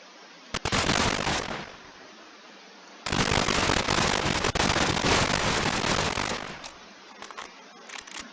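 An AK-47 in the NationsGlory video game fires in two long, loud, rapid automatic bursts, each a dense rattle of shots, with a few isolated single shots between and after them.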